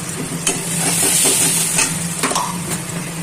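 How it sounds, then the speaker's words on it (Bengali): Onion frying in mustard oil crackles and hisses loudly up close, with intermittent stirring clicks and scrapes punctuating the continuous sizzle. "এবার পেঁয়াজটা একটু লাল লাল করে ভাজা হচ্ছে, ভাজা হবে।"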